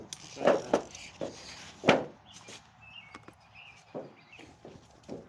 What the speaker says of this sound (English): So sorry about the noise. There's a piece of tin.